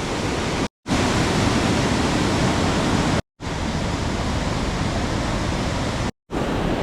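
A rain-swollen stream in Ketchikan, Alaska roars steadily in a dense, broadband wash, broken by a few brief cuts to silence.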